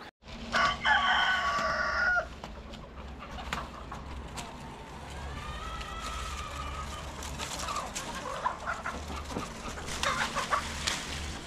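A rooster crows loudly and nearby at the start, followed by softer clucking and chattering from chickens around a Turkish farm where goats are also kept, the birds continuing steadily throughout.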